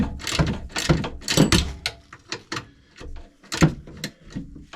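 Ratchet wrench clicking on brake bolts during a brake replacement on a 2016 Subaru Forester, with close, loud bursts of ratcheting clicks in an uneven rhythm with short pauses.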